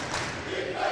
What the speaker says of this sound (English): Crowd coming alive here with the defensive chat.